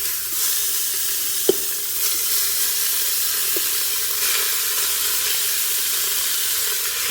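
Top sirloin beef sautes in hot cooking oil in a preheated Instant Pot, giving a continuous loud sizzle with a sharp clink near the start and a fainter one midway, and no voices.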